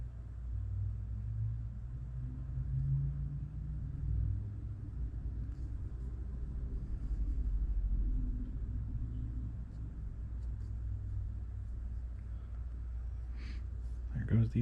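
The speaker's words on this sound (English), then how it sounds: "There goes the UPS truck." A UPS delivery truck rumbles past outdoors, a low engine drone rising and falling over several seconds, moderately distant beneath background noise.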